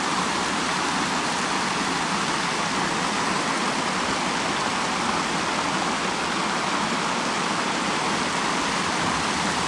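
A city fountain on a hot day, its water splashing and rushing in a dense, steady hiss that stays constant and fairly loud throughout, with no voices.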